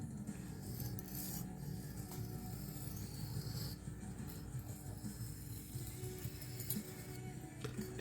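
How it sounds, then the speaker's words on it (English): A small knife blade drawn along a homemade strop cut from an old leather belt, soft repeated rubbing strokes, close and quiet, with occasional faint clinks between passes. "I'm going to use this strop, which I made out of an old piece of belt"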